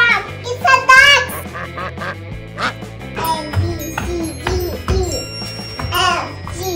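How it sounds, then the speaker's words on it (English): A duck quacks in a series of short nasal calls scattered through the clip, close and clear, mixed with a child's babbling and speech. "it's a duck!"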